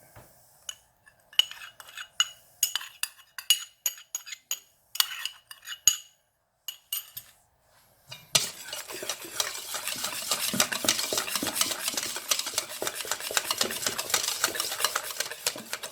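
A spoon stirs a mixture into rouille sauce in a bowl for fish soup, first a series of sharp separate clinks against the bowl, then a continuous fast scraping and whisking sound that runs steadily to the end.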